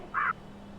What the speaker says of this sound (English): Is that a bird in the background?